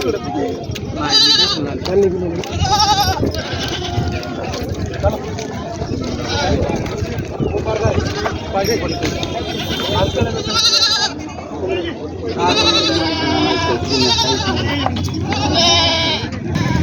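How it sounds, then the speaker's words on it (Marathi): Many Osmanabadi goats bleating loudly and repeatedly nearby, overlapping with a crowd's chatter and people talking amid a busy goat market in Marathwada. "शीतळे काकाची शेळी आहे मित्रांनो"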